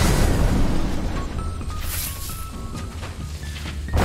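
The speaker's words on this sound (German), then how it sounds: "Ja, die Kanone fällt. Sie kracht in Brainiacs Flasche da unten." A falling cannon crashes down into a large bottle in the DC Universe Online video game, heard as a loud sustained rumbling crash with booming low end and scattered debris impacts, game music faintly underneath.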